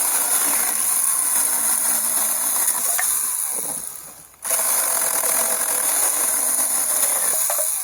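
A GTA-26 One Handed Beaver battery saw cuts through a thick piece of wood in a steady, high mechanical whine with a rattling chain. It drops off briefly midway, then resumes at full speed.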